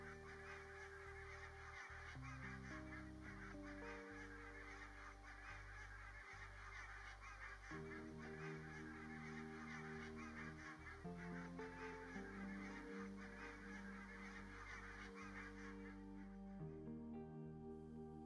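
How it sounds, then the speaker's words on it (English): A large flock of overwintering Greenland barnacle and white-fronted geese honks continuously on a windswept island, many overlapping calls forming a steady clamor with music playing underneath. "this windswept island is inundated with overwintering Greenland barnacle and white-fronted geese"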